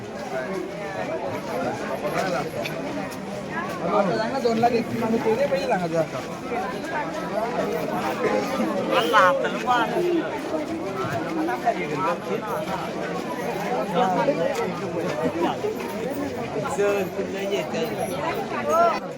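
Dense crowd chatter fills the Kalamb Urs village fair, a steady babble of many voices with footsteps and bustle mixed in, continuous and close throughout.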